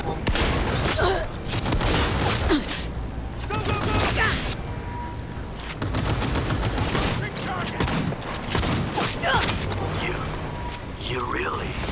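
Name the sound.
gunfire in the video game Cyberpunk 2077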